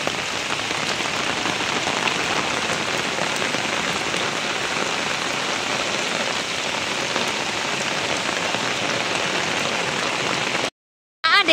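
Steady heavy rain pouring onto surfaces, a dense even hiss throughout with no pauses until a brief cut near the end.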